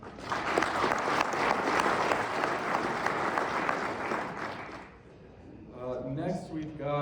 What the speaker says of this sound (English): So give Nolan a round of applause